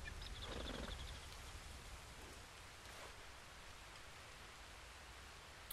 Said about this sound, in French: Il pleut déjà.